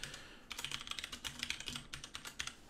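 Rapid clicking of keys on a computer keyboard, close and clear, in quick irregular bursts with brief pauses, alone without any voice.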